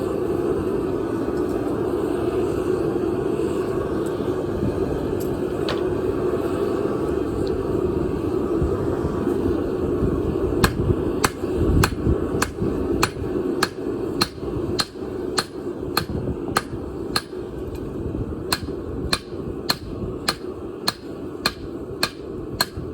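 Steady rhythmic hammer blows on hot steel while forging a billhook trench sword, sparse at first then a fast, evenly spaced run of sharp ringing strikes over a low background rumble.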